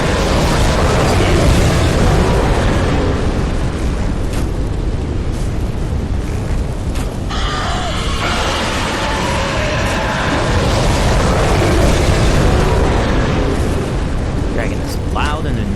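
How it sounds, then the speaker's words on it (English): A dragon attacks in Dark Souls 3 on the High Wall of Lothric, producing a loud, continuous roaring blast that fills the whole stretch with dense, rumbling fiery noise and no break. "Dragon is loud and annoying."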